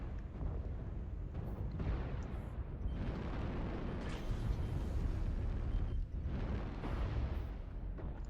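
Repeated heavy explosions from an artillery strike in the MechWarrior Online video game, a dense rumbling barrage of booms that rolls on continuously through the whole stretch with short swells and dips.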